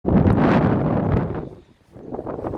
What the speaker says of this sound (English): It's quite windy and rainy.